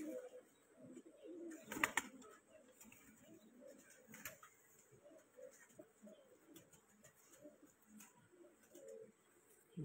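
Pigeons at a pigeon-fancying competition coo softly in low, repeated burbling calls with occasional flutters and clicks, fairly close, with no voices.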